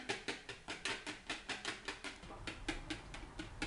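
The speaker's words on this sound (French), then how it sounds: "Mais il faut toujours fouetter, toujours fouetter, toujours fouetter. Et oui, je fouette." Cream for a strawberry tiramisu being whisked by hand, a quick, even run of sharp swishing strokes about four per second, close and fairly quiet, with no one speaking.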